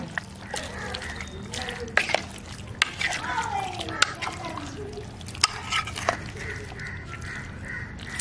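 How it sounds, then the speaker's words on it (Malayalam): Water splashes into pieces of buffalo beef being cooked for chops in a pot, followed by wet sloshing and stirring with a few sharp clacks of the spoon against the pot, close and fairly quiet. "അല്പം വെള്ളം ഒഴിച്ചു കൊടുക്കാം. പതിയൊന്ന് മിക്സ് ചെയ്ത് കൊടുക്കാം."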